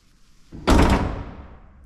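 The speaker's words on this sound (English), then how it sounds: "how nice that door shuts" A car door on a twin-turbo Trans Am drag-and-drive build shuts with a single solid thud that rings briefly and fades, after a quiet moment with no talking.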